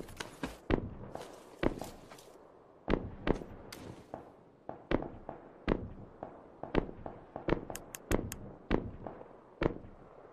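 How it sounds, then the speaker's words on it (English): Footsteps in the video game PUBG land as a series of sharp, irregular thuds and crunches, fairly close and distinct against a quiet background, with no speech. "I heard a footstep over here."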